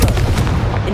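The Confringo blasting spell in the video game Hogwarts Legacy: a short, loud, dense burst that hits at once and rumbles for under a second.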